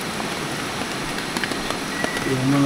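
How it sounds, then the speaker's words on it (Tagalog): Light drizzle falls at a riverside campsite in the Sierra Madre mountains, a soft continuous patter of fine drops on surfaces, steady and close, with a few brief spoken words near the end. "Umuulan dito. Hindi naman ganun kalakas."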